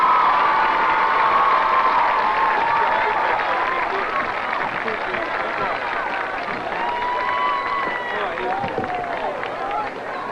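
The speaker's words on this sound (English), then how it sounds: "Let's give a warm round of applause to our King and Queen winners for 1984 and our candidates for 1984." A large crowd at a 1984 high school football game cheers, shouts and applauds the homecoming King and Queen winners, a loud, sustained roar with whoops throughout.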